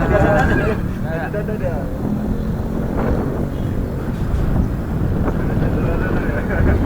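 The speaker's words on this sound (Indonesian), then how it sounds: "Wah, anginnya berhembus sangat kencang." Strong wind gusts across a hotel rooftop, buffeting the microphone with a constant low roar, and a voice is partly audible beneath it.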